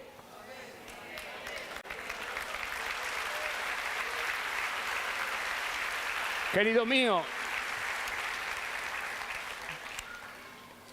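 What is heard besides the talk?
audience applause in church sermon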